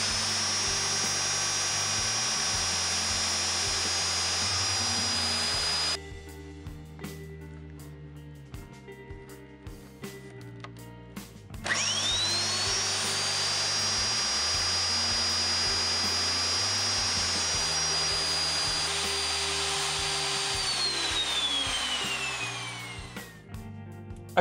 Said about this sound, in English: a 3/32 inch single flute upcut aluminum cutting router bit made quick work of the slots